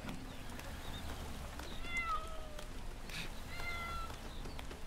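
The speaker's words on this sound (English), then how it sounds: "I hear a cat as well." A cat meows in the PS4 video game Lego Marvel Super Heroes 2, with several drawn-out, fairly faint mews spread over a quiet game ambience.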